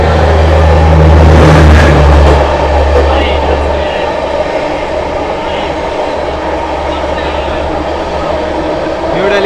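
Amrit Bharat Express train passing through Tundla Junction without stopping, a loud, close, continuous rumble and roar of rolling wagons, heaviest at the start and steady after.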